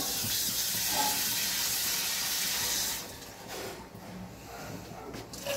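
Water poured into a hot pan of chole sends up a loud, steady hiss for about three seconds, then settles into quieter bubbling and sizzling.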